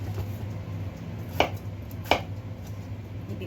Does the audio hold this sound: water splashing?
no